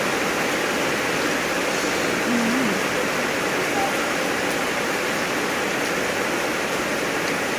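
Heavy rain falling steadily on a corrugated metal roof, a dense continuous roar with no breaks, loud and close throughout.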